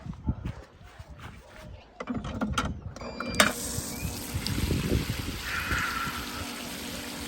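An Intex pool water fountain with multi-color LED switched on, clicking mechanism sounds giving way to a continuous broadband rush of spraying, splashing water that holds steady, with a voice talking briefly.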